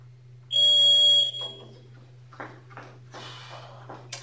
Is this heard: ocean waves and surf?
no